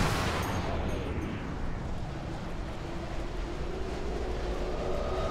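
A remotely detonated grenade explodes in the shooter game Sniper Elite V2, a sharp blast at the start followed by a long rumbling roar that slowly decays, fairly quiet overall.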